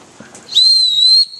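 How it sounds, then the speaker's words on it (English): A shrill dog whistle sounds once in a classroom, a loud steady high tone lasting under a second after faint background noise. "it's dog whistle again"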